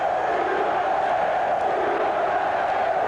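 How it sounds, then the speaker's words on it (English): Boxing crowd in an arena in Reno, Nevada, chanting USA during an amateur dual competition, a steady dense roar of many voices sustained throughout at even loudness. "Crowd in Reno, Nevada chanting USA"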